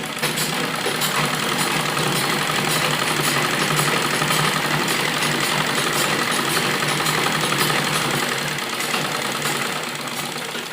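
A sewing machine runs steadily and close while double-stitching a heavy printed-fabric kurti, a continuous dense mechanical whir and rattle for about ten seconds that eases slightly near the end, with no talking.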